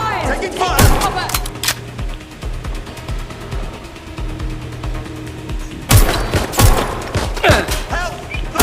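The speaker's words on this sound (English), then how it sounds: "Shots fired! Taking fire!" Bursts of automatic gunfire in the video game Watch Dogs: Legion, loud and close, clustering near the start and again toward the end over a steady game background with faint radio-style voices.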